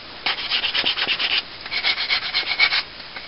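A scrap piece of sander disc is rubbed along a wooden knitting needle by hand, quick rhythmic rasping strokes close up in two short bursts.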